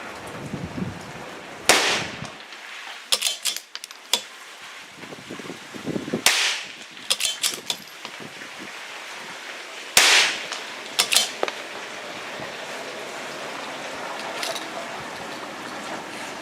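A CZ pistol fitted with an Anarchy Outdoors extended magazine fires its last rounds: a few sharp, cracking reports spaced irregularly apart, heard at moderate distance over a quiet background.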